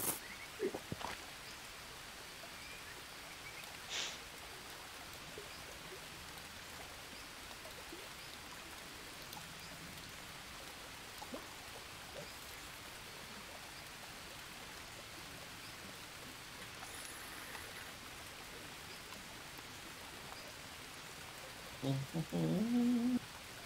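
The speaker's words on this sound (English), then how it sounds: "at least it's raining for a decent amount of time" Steady, soft rain hisses continuously with scattered drops in the video game Green Hell, a few louder clicks and taps near the end.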